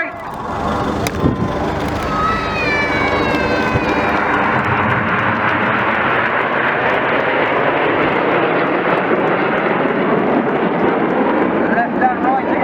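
A display jet at an airshow pulls a vertical break manoeuvre, a loud sustained roar that swells and sweeps across the sky, with engine whine rising and falling.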